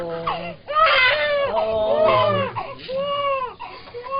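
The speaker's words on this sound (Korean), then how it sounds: "의사가 안고 달래보아도 아기는 울음을 그치지 않는다." A four-day-old newborn wails while held by a doctor, with loud, repeated high-pitched cries broken by short gasping pauses and no soothing voice audible.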